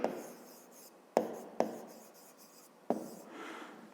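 Pen writing out a maths expression on paper, close and clear, with several sharp taps as strokes begin and scratchy writing between them, no talk.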